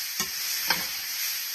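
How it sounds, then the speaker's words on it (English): Cajun sausage, chicken and pasta being stirred in a hot pan, with two quick scraping strokes over a steady sizzle from the frying food. "just going to kind of stir it around"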